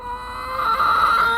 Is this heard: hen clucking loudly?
yes